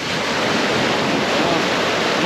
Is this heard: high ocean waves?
yes